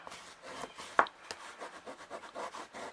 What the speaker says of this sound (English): Give that a good burnish